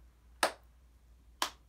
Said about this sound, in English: You can just clap along.